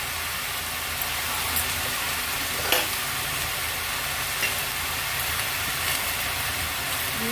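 Vegetables frying with Malabar spinach in a pan for a vegetarian mixed-vegetable dish, a steady close hiss of sizzling with faint stirring scrapes and a few brief clinks, no talking.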